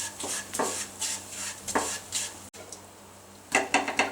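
Spoon stirring roasted semolina with herbal powder and jaggery syrup in a pan, giving repeated scraping clinks in short bursts with a faint sizzle between, close and moderately quiet.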